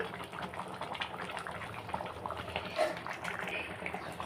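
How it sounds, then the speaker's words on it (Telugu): A pot of goat head curry bubbling on the stove, a soft continuous simmering burble with faint irregular pops, low and steady throughout. "చూసారు కదా ఎలా ఉడుకుతుందో"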